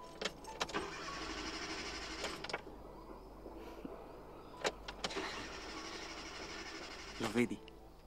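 A car engine fails to start, with repeated bursts of cranking whir separated by pauses and a few clicks, while a person speaks quietly nearby.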